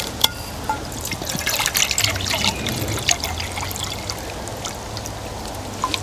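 Half a litre of cold water poured into the pot of a budget Jetboil-style camping stove, a close splashing trickle with irregular spatters that tapers into lighter dribbling, no talking.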